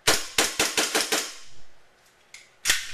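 A WE G18c Gen 4 Glock airsoft pistol fires on semi-auto, with a quick string of about seven sharp, close pops followed by one more shot after a short gap.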